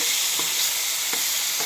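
Tomatoes and dried salted fish being stirred in a hot pan, a steady bright sizzle under a few soft utensil scrapes, no talking.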